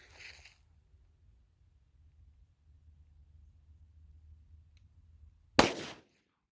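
A single loud, sharp shot from a Glock 27 pistol firing .40 S&W Federal HST rounds cracks near the end after several seconds of faint low background rumble; no one speaks.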